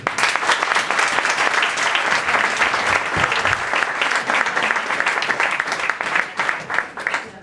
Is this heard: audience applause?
yes